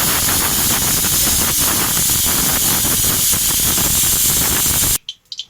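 A pressure cooker whistle releases a loud, steady hiss of steam for about five seconds before cutting off abruptly, while eggs boil with turmeric inside.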